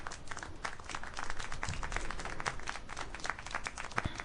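Steady applause from a crowd in the video game Syberia: The World Before, dense clapping that holds at an even level throughout without voices.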